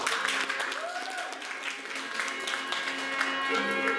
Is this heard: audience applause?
yes